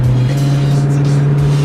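A car roars past during a street race, its engine drone loud and steady with a strong low hum throughout, running hard in fifth gear.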